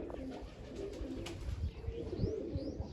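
A pigeon coos softly outdoors among pet birds being flown, low throaty calls repeating over steady background hum, with faint higher chirps from other birds and no talking.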